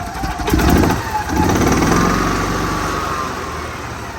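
An EZGO gas golf cart engine cranks and catches, two quick surging bursts followed by a steady, loud close-up running drone that slowly settles.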